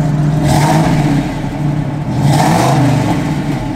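A 1968 Chevrolet Camaro SS big block V8 revving twice, loud and close, each throttle blip swelling into a deep roar before settling back to a rumbling idle.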